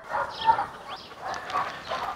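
A dog near a swimming pool, about to enter the water for the first time, gives a few soft yips or whimpers close by over faint background noise.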